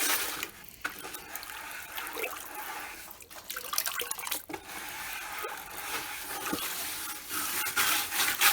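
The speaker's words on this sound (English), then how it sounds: "Toilet brushes work great for stirrers." A toilet brush stirs liquid in a bucket, giving a continuous sloshing, swishing wash of water with small splashes and drips, moderately quiet and close, with no talking.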